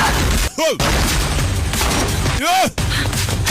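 Gunfire in a spy action film: two loud booming shots about two seconds apart, each with a sharp crack and falling ring, set against a dense, steady background of action noise.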